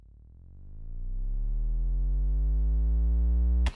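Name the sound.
reversed bass drop riser effect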